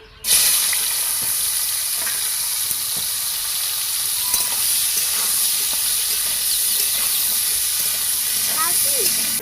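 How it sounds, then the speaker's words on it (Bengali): Pieces of young green jackfruit frying in oil in a pan for a jackfruit-and-prawn curry: a loud, continuous close hiss and crackle that starts abruptly and holds steady throughout, with faint voices in the background. "এবার চোরগুলোকে ভেজে নেবো"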